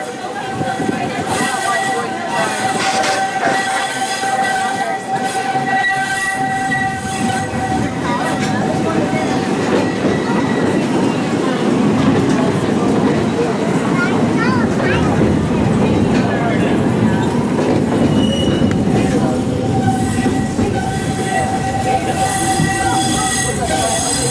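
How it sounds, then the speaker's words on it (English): A Walt Disney World Railroad train rumbles and rattles steadily for a long stretch, with squealing wheels and clanking over the tracks, loud and close, with voices faintly beneath. "left the rattle and rumble of that old gold mine behind"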